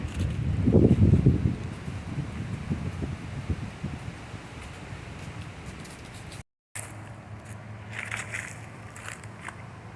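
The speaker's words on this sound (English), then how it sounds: "It's awful windy" Gusty wind buffets the microphone with low rumbling bursts, strongest at the start, then a steadier windy hiss after a brief dropout.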